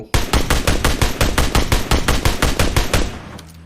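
An AKS rifle fitted with a 4x scope fires in PUBG Mobile as one loud, fast, evenly spaced burst of about eighteen shots. The burst lasts around three seconds, then stops abruptly.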